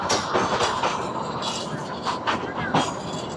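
The Kalka-Shimla toy train, a Vista Dome Him Darshan Express, rumbles into a tunnel with a dense, continuous roar of wheels and carriage noise, rhythmic clatter pulses and faint voices of passengers mixed in.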